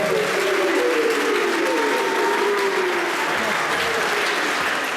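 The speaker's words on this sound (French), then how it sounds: "On l'applaudit, mesdames et messieurs" An audience at an amateur rugby awards ceremony gives sustained, dense applause that fills the room, with a voice talking over it at the start.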